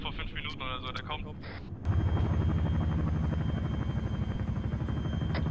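An enemy Mi helicopter in ArmA 3 thunders in overhead, steady rotor chop and engine drone loud and close, following a brief stretch of radio chatter and talk.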